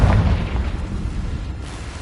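A Confringo blasting spell explodes in Hogwarts Legacy, a single deep, muffled boom that fades into a low rumble over a couple of seconds.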